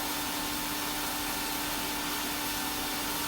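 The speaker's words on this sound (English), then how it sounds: "Got the vacuum on, it's making all kinds of racket, driving me crazy." A vacuum cleaner runs in a woodturning shop where a Bradford pear bowl is being turned, a steady loud broadband whine and roar with no break, heard alone without talk.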